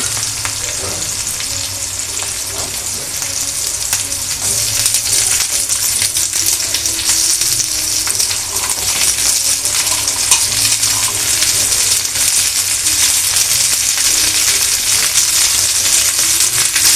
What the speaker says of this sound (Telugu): ఇప్పుడు బ్రౌనిష్గా వచ్చే వరకు వేపుకుంటూ ఉండాలి.